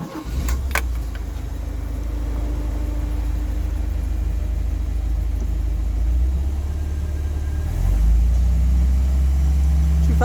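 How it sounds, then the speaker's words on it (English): A car, the subject of a tune-up, idles with a steady low engine rumble, then the engine note rises and grows louder near the end as throttle is applied; keys jangle briefly early on. "we just give it a bit of throttle to kick it into gear as such"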